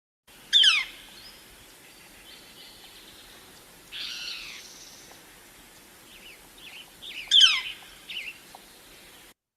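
Woodpecker calls in the woods: two sharp, loud, high peals near the start and end, with fainter chattering bird notes between, set against a quiet outdoor background.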